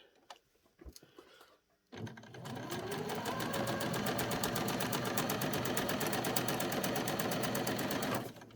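A sewing machine stitches ribbon onto a doll's pyjama cuff, starting after a couple of seconds of faint handling noises and then running as a steady, rapid, close mechanical whirr for about six seconds before stopping.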